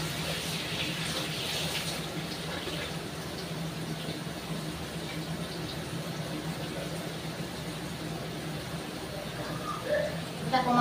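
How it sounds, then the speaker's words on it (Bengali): Tap water runs steadily while meat is washed in a kitchen, giving a continuous close splashing rush with faint clinks near the end, and someone speaks quietly beneath it. "মাংসটা ধুয়ে নেব।"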